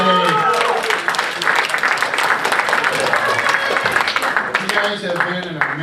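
An audience at Lafflines Comedy Club claps steadily for a comedian through a birthday show, dense and sustained for several seconds, with a host's voice talking over the applause.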